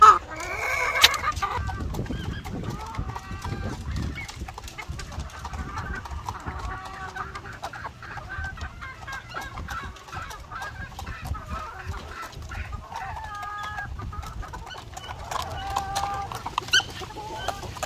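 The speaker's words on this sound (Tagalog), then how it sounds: "So yan yung mga white leghorn natin mga ka-farmers." White leghorn laying hens kept in battery cages for egg production cluck steadily throughout, with a dense chorus of many birds close by and occasional louder calls. No one speaks.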